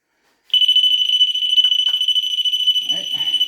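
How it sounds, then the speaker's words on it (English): REM pod ghost-hunting device alarm set off inside a castle, a loud piercing continuous electronic tone that starts abruptly and keeps sounding, with a voice speaking briefly under it near the end. "I've got wee REM pod here, so I'll set that. Now this is going to be loud going off here"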